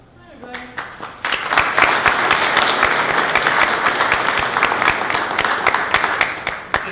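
A room full of people breaks into applause at a gathering with a guest speaker, dense clapping building quickly and holding steady and loud after a few scattered early claps, with some voices under it.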